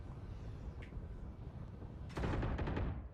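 Vandal rifle gunfire in the game Valorant at long range: a loud, rapid burst of several shots packed into the final second, rising sharply over a steady background rumble.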